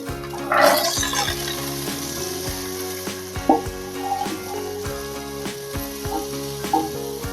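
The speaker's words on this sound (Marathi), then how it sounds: "यामध्ये भाज्या परतून घ्यायच्या भाज्यांमध्ये इथे मटार परसवी गाजर फ्लावर घेतलेला आहे" Peas, beans, carrot and cauliflower sauté in oil with cumin for a restaurant-style veg korma, making a steady sizzle with a burst of spatter early on and spoon scrapes stirring throughout, under a low background hum with no talk.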